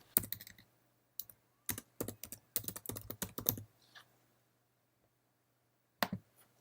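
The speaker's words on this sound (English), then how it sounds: "click on the tag button and type in anything into the text box that you wish." Typing on a computer keyboard into a text box, quick clusters of close, crisp key clicks with short pauses between bursts and a final few taps after a gap.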